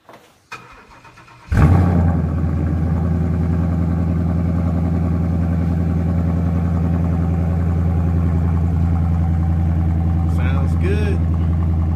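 2015 Ford Mustang GT with Roush axleback mufflers cold starting: a brief crank, a sharp catch, then a loud, steady, deep idle that holds to the end.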